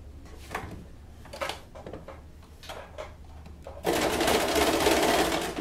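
A sewing machine stitches elastic onto the base of a lace bra, starting with a few soft clicks and handling sounds before running in a steady whir to the end.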